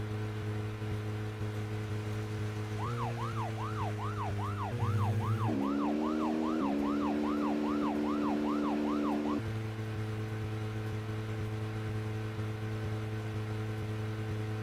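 A loud police car siren in the video game Deadly Premonition wails in a fast rising-and-falling yelp over a steady engine drone, then cuts back to the engine alone.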